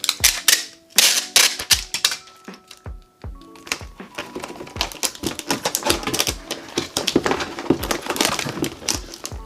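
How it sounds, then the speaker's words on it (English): Packing tape being pulled and pressed onto a shipping box for sending shoes, with loud, close rips and sharp crackling bursts in irregular rhythm, followed by a quick run of rustling, snapping strokes. "So what I do is I tape it like that."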